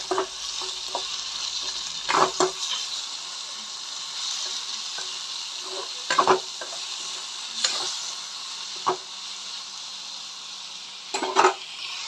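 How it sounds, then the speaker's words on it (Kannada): Finely chopped tomatoes cooking in a pan, a soft steady sizzle with occasional louder stirring scrapes and clinks scattered through. "ಇದನ್ನು ಸಣ್ಣಗೆ ಹೆಚ್ಚಿದ ಟೊಮ್ಯಾಟಿ ಹಣ್ಣು ಹಾಕಿ ಮತ್ತೊಮ್ಮೆ 5 ನಿಮಿಷ ಬೇಯಿಸ್ಕೋರಿ."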